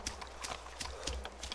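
Hoofed animal walking through a pasture in the DayZ video game, a steady series of close, crisp clip-clop footfalls with soft scuffs over a constant low hum.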